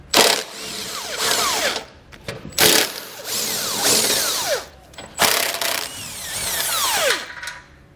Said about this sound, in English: I'm going to use a 17mm socket to get all of those removed.